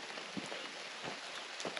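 Rain patters steadily on a tent at a solo camping site, a dense close hiss broken by soft irregular drop taps, with no one talking.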